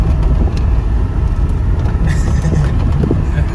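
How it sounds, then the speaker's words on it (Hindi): A car pulls away on a roadside in Haroonabad, its engine and road rumble a steady, loud wash mixed with wind buffeting the microphone, with no voices. "चेक करो के गाड़ी भगाता है, वो लेके जा रहा है"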